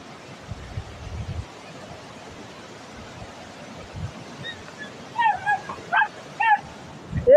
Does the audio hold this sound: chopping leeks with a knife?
no